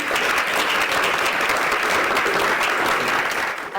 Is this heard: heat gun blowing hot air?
no